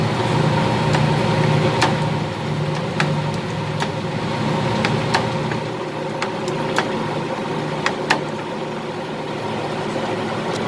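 An old rescued lathe motor runs at a steady hum with a low rumble, punctuated by scattered sharp ticks and clicks, close and continuous with no talk.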